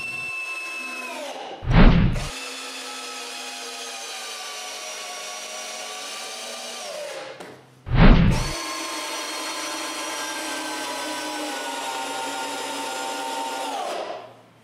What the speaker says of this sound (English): I switch all of them to the drilling position and finish the job without any trouble.